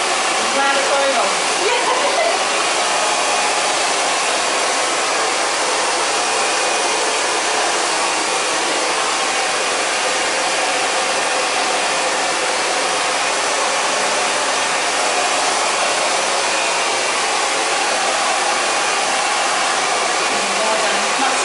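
A hair dryer blows hair dry over a round brush during a salon blow-dry, a loud, steady, close-up rushing whoosh that runs continuously for the whole stretch and covers any talk.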